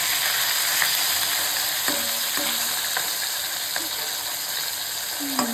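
Pabda and amudi fish fry in a pan, giving a steady, close hiss of sizzling oil punctuated by a few light clicks and scrapes of utensils against the pan.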